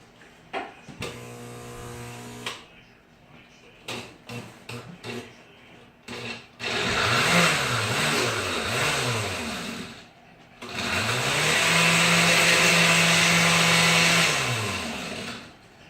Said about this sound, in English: once you get all your cookies in here, you're going to grind them up for your crust